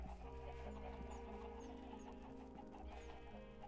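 Chickens cluck repeatedly in a Minecraft farm pen, a cluster of blocky game fowl making soft, overlapping clucks over steady background music, with no talking.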